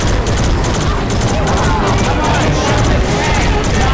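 Rapid, loud gunfire from the Left 4 Dead 2 zombie shooter with a Resident Evil 2 laboratory mod, dense bursts of shots rattling steadily over game noise and chatter throughout.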